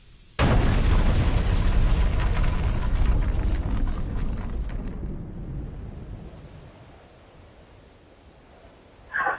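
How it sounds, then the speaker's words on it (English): A propane tank explodes at a store, with a sudden massive boom that hits at full force and then rolls into a long, roaring, rumbling decay over several seconds before fading to a low hiss, followed by a brief final burst. "the propane found an undetermined ignition source and exploded"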